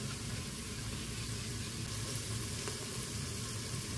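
Vegetables sizzle in a pan with a steady, fairly quiet frying hiss as they are stirred, with a faint scrape now and then and no talking.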